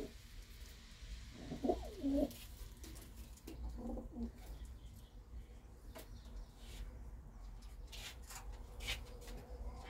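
Pigeons coo softly in a loft or rooftop setting, a few low burbling calls clustered in the first seconds amid faint background noise and occasional knocks.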